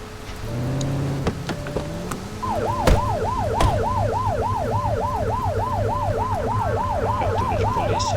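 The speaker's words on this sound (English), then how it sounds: "Turn that siren off." A wailing police car siren from the game GTA cycles steadily and loudly over a constant engine and road rumble, after a few short horn-like tones and a thud at the start.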